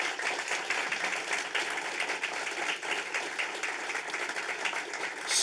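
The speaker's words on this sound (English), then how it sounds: "Let's give her a big applause." An audience claps steadily for the governor of New York at a public event, dense sustained applause at a moderate distance, filling the whole stretch without pause.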